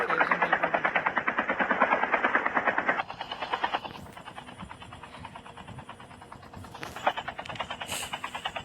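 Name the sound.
helicopter flying in a battle royale video game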